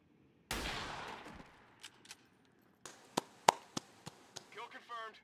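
Gunfire in the video game XCOM 2 comes as a sudden loud burst followed by a run of sharp, evenly spaced shots. A faint voice is heard near the end.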